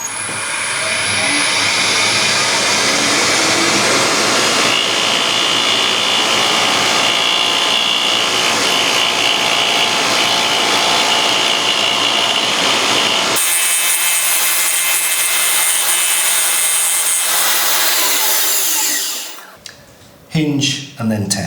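A Hope threading jig with a left-hand spindle makes its final finishing cut on wood, a steady loud rasping, sawing grind that runs for about thirteen seconds, then drops to a thinner whir before stopping with a few clunks.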